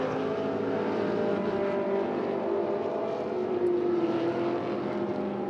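GT race cars, including a Porsche and a Ferrari, lapping the Spa circuit in a Blancpain GT Sports Club race, with a steady, continuous engine drone heard from a distance, no voices over it.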